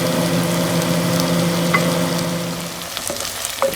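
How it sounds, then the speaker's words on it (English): Zucchini and mixed vegetables cooking in a pan for an Indian spiced ratatouille, a steady soft sizzle under a low hum that thins out toward the end with a couple of light clicks. "We've added zucchini to this nicely simmered vegetables."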